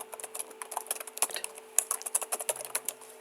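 Fast steady typing of code on a computer keyboard, a close, continuous patter of crisp key clicks with a few heavier strokes, alone and fairly quiet.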